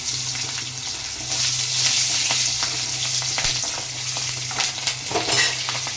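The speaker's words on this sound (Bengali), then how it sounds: "তো এই তেলটার মধ্যে দিয়ে দেবো কালো জিরা আর কাঁচা লঙ্কা ফোড়নে" Nigella seeds and green chilies hit hot oil in a pan for tempering, producing a loud, continuous sizzle with crackling pops and a few clicks of stirring.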